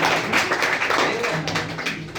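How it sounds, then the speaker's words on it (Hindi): Students in a room clapping loudly for a classmate, a steady burst of dense clapping lasting a couple of seconds with some voice sound mixed in. "एक बार सब जोरदार तालियां"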